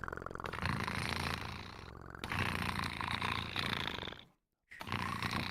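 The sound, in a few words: people imitating a cat purring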